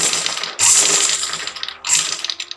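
A sewing machine stitches a blouse seam in two steady bursts of whirring, the first about a second long, then a short pause before a second shorter run.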